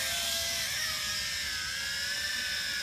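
X6 Tarantula quadcopter with faulty gyros hovering nearby, its motors producing a continuous high-pitched electric whine with shifting tones, loud and unbroken.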